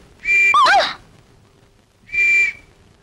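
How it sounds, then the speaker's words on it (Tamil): A comedic whistle effect, supposedly a swallowed whistle sounding from a man's belly, gives two loud, shrill blasts, the first warbling and wobbling in pitch, the second a steady tone after a short pause. "வயித்துல இருந்து விசில் சத்தம் வருது"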